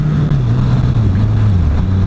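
Car engine blips and drones during a heel-toe downshift, a loud, close, rough engine note whose pitch rises and falls across a couple of seconds, with no voices.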